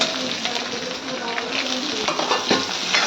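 Red chili, cumin, mustard seeds, coriander and garlic sizzle hard in hot oil for a dal tadka, a steady close crackle with scraping stirring noises on top and a faint voice underneath.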